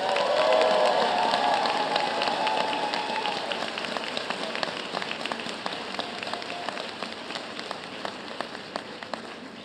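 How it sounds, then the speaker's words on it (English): Graduates receiving applause from the crowd at a College of Health and Human Services graduate commencement, a sustained wash of clapping that starts full and slowly thins and fades, with no speech over it. "Can we give our graduates a round of applause?"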